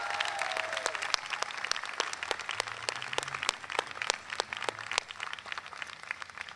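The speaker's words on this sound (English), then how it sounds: "And once again, round of applause." Applause at a University of Iowa convocation in August 2022: a thin, faint patter of individual hand claps, each clap distinct and irregularly spaced, with no talk.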